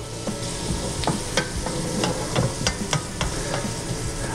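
Garlic sizzles in a pan over low heat, a constant close frying hiss punctuated by sharp clicks and scrapes as it is stirred and scraped down.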